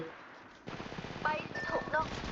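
Rapid gunfire bursts in a Thai action drama scene, heard alongside excited shouting voices and a music score, moderately loud and continuous over a couple of seconds.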